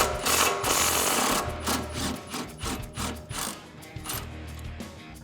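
A ratchet wrench clicks rapidly and rhythmically, loosening the 18mm sway bar end link nut on a 2005-2014 Mustang GT during a coilover install. The clicks come close and repeat in short runs.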